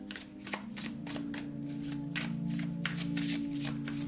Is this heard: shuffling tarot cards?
yes